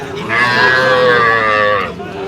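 A Sahiwal cow lets out one long, loud, close moo lasting over a second at a cattle market, with quiet background noise before and after.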